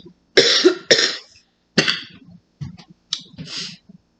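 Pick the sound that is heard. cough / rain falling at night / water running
cough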